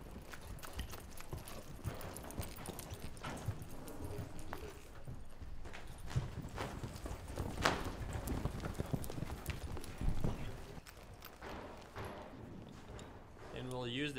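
A young ranch colt moves around a small round pen, its hooves making soft, irregular clip-clops on the ground, faint and spread through the clip under a person talking.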